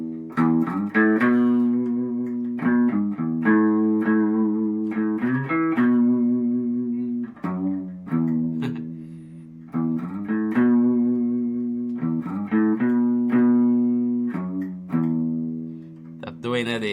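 Gretsch Tennessean electric guitar plays a twangy melody, sustained notes with distortion and reverb, loud and close, in steady phrases with short breaks between them.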